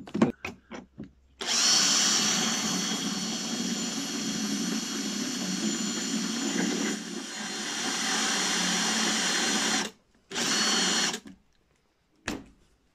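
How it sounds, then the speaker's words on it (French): A worn metal drill bit grinds into a metal plate on a junction box in a steady, loud whine lasting several seconds. It stops briefly, then gives one short final burst, with a few clicks before and after. "là j'ai un forêt pour métaux qui est un petit peu fatigué"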